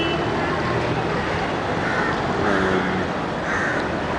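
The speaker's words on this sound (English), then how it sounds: "lots of birds flying around too" Crows cawing on a busy city street with taxis: several rough caws rise over steady, loud traffic roar, fairly distant, with no clear talk.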